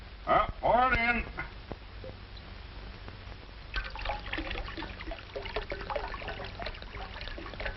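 Grape juice trickles and dribbles into a bowl in a 1947 comedy film, a light, continuous liquid stream heard under voices that come and go.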